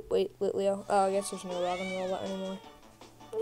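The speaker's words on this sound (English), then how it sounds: "That's my cat, you hear?" A pet house cat meows in a few drawn-out, rising and falling calls close by, with a person talking over and between them indoors.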